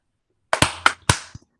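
Three or four sharp hand claps in close succession, near and fairly loud, with no talk over them.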